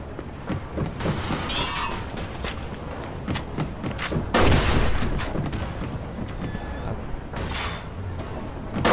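Gunfire from a shootout in the video game Mafia II, dense bursts of shots and heavy thumps throughout, with a loud blast midway, over continuous game noise.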